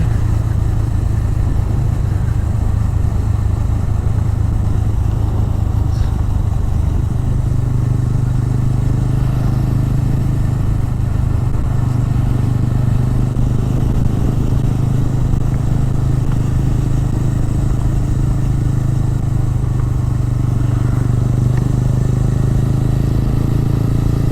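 A motorcycle engine drones steadily and loudly throughout on a ride around Munnar, the pitch shifting slightly as the bike rides along, with wind and road rumble.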